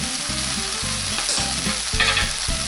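Garlic is stirred into softened vegetables frying in a pan, giving a loud, close sizzle broken by rhythmic scraping strokes of the spoon.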